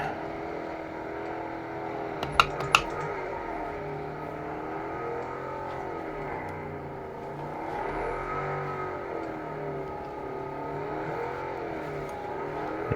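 Sustained car engine hum from the racing game Test Drive Unlimited Solar Crown played on a PS5 Pro, with revs rising and falling and a couple of sharp gear-shift clicks near the start, loud and steady throughout.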